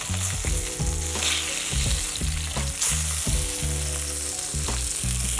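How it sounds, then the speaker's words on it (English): A salmon fillet sears in a hot frying pan with a continuous, dense sizzle, steady and close, under a tonal musical backing. "leave that for a couple of minutes, allow it to create a nice sear, then flip it over"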